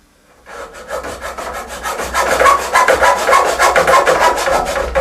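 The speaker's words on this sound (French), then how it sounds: "Je retrouve ma marque et je vais faire la deuxième découpe." A hand saw making a second cut in DIY tub work, a loud, close, rapid rhythm of rasping back-and-forth strokes that builds up and continues steadily with no talking.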